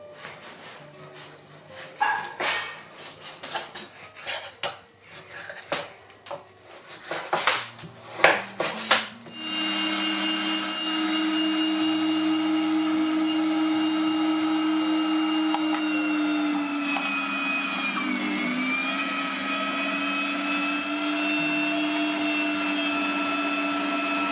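An electric meat grinder mincing cubed, thawed meat in a village kitchen starts up after several seconds of clattering and a dog barking, then runs as a steady, loud whine with a wavering pitch.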